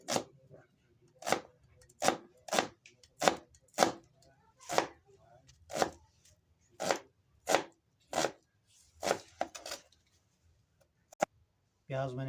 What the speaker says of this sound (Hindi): बारीक बारीक प्याज काट लेंगे।